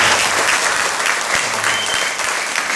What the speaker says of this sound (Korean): 우리 수고하신 우리 3여전도의 모든 분들에게 큰 박수로